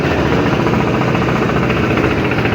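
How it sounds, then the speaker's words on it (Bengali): A trawler engine pulling away from the launch ghat at Barishal, a loud, steady diesel chugging with a dense knocking throb that holds continuously without a break. "এই মুহূর্তে একটা ট্রলার ছেড়ে যাচ্ছে"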